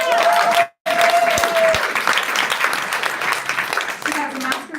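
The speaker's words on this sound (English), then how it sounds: "Can we clap for that?" An audience applauds loudly at a leadership talk, dense clapping broken by a brief pause, with a speaker's voice over it.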